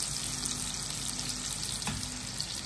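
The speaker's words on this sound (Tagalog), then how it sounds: "Hindi ako natutuwa sa pagkakaprito nitong tofu. Dumikit-dikit siya sa kawali." Tofu fries and sticks in a pan, giving a loud, continuous close sizzle with no voices over it.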